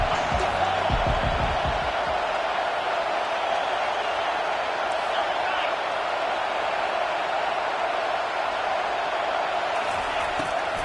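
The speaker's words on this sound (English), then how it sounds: "Decibels rising as the crowd gets behind this defense on 3rd down." A loud stadium crowd roars steadily at a college football game between Duke and Tennessee as fans rally behind the defense on third down, a dense sustained wall of cheering with a few sharp thumps early on.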